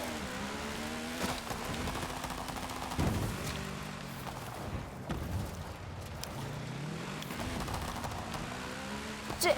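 Polaris RZR Pro XP Factory Racing limited edition off-road vehicle driving on dirt in a quarry in Forza Horizon, engine droning steadily with revving harmonics, rumbling and crunching impacts throughout, loud and close.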